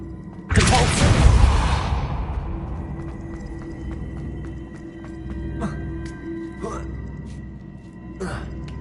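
The Depulso force spell hits in Hogwarts Legacy, a loud whooshing impact that fades out slowly, followed by softer game sounds and a few short bursts.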